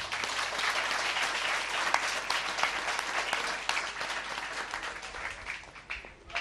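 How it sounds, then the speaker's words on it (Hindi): Audience at a Christian gathering clapping steadily and fairly loudly throughout, a dense continuous patter of many hands with no break. "ताली बजाएं अपने लिए।"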